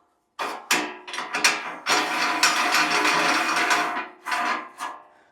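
Metal ring being spun and screwed back onto a Valley Sportsman #32 meat grinder, giving a run of close, dense grinding and clanking rasps with brief pauses, heard alone without talk.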